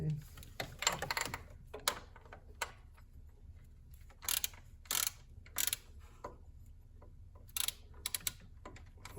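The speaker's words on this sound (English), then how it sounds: "I'm going to go ahead and start tightening the 12mm bolts on the housing." A ratchet tightens 12mm bolts on the coolant crossover housing of a 2014 Honda Accord four-cylinder, giving short bursts of quick clicking separated by pauses, close and fairly quiet.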